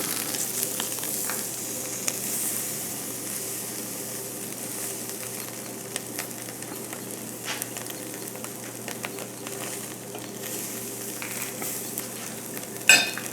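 Steak sears on a hot grill, giving a steady, fairly quiet broadband sizzle that runs unbroken with a few faint ticks and a soft clink near the end.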